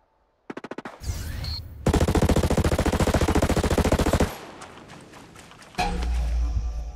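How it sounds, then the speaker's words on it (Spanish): Automatic weapons rattle in the video game Ghost Recon Breakpoint: a short burst, then a long sustained stream of rapid, loud, close gunfire, followed by scattered shots and another heavy burst. "Oigo disparos."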